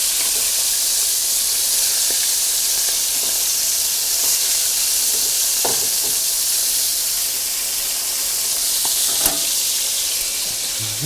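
Thin quarter-inch pieces of meat fry in a non-stick pan, giving a steady close sizzle and hiss throughout, with a few faint clicks and no talk.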